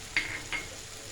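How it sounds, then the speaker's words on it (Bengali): Whole spices such as cinnamon, cardamom and bay leaf sautéing in a pan for potato dum with a low steady sizzle, broken by two short sharp scrapes of a spoon stirring. "মশলা কষানো হয়ে গেছে"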